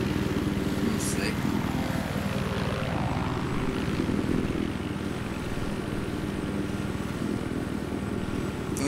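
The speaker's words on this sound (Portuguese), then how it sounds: "Tem um helicóptero ali embaixo." Helicopter in the video game Battlefield 4, a loud, continuous rotor and engine drone with players talking over it.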